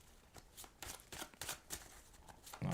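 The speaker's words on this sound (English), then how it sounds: "let me shuffle the cards." Tarot cards are shuffled by hand, producing faint, close riffling bursts in an uneven rhythm, with no voice heard.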